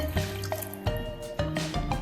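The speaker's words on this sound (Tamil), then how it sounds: "ஒரு டம்ளர் தண்ணி விடுறேன்" A tumbler of water poured into a pot with chopped papaya pieces for a curry, heard up close as gurgling splashes in several short bursts.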